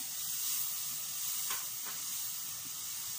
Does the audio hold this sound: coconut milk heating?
yes